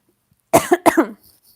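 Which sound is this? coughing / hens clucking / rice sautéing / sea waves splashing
coughing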